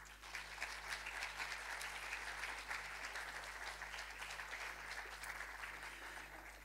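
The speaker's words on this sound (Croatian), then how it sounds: "Pozdravimo ih velikim pljeskom" Guests at a university graduation ceremony for master's degrees in psychology and sociology receive a sustained round of applause from the hall, an even, continuous clapping with a low hum underneath.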